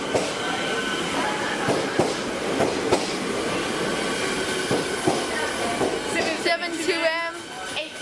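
A six-carriage Siemens Metro train on the Craigieburn line rumbles past close by, with rhythmic wheel clicks over the rail joints and a brief squeal of wheels toward the end, steady and fairly loud.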